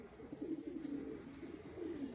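Face beauty pigeons coo softly in a loft, a low rolling repeated cooing that carries on throughout, faint and close with no voices.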